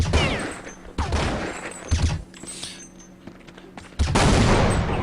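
Bursts of rapid gunfire and single shots crack out in a competitive ESEA Counter-Strike match, loud and close, separated by brief quieter gaps with faint in-game footsteps.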